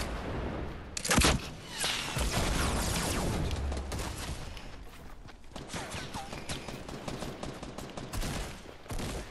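Rapid gunfire in Fortnite, a burst of loud sharp shots and cracks followed by ongoing combat noise, close and dense, with game effects layered underneath.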